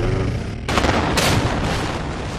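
The Noida Twin Towers demolition blast hits as a sudden loud boom, quickly followed by a second, then a dense, sustained roaring rumble.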